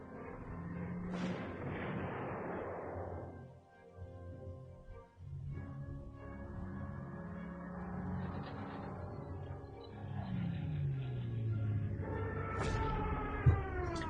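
Artillery pieces firing from an ambush position in the Panzer Corps strategy game: several booming blasts with rumbling tails, spaced over the stretch, moderately loud, the last one ending in a sharp crack.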